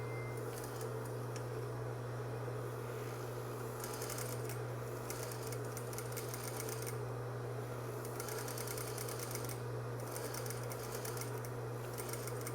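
A sewing machine edge stitches along a folded fabric edge with its presser foot, humming steadily up close with runs of fast needle clatter that stop and restart.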